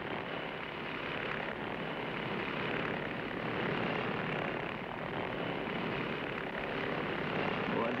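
A propeller airplane engine roars during takeoff in a remote wilderness setting, a loud and steady droning rumble that holds constant throughout with a faint voice beneath it.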